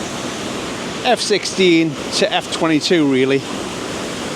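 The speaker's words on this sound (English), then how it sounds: "This is what I would suggest is a bit of a horseshoe waterfall." A horseshoe-shaped waterfall in Yorkshire gives off a steady, broad rush of falling water that runs continuously in the background while someone talks over it.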